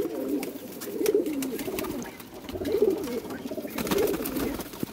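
Pigeons, including golden pigeons kept by a fancier in Gujranwala, coo in repeated soft throaty rolls every second or so, fairly close, with clicks and light background noise around them.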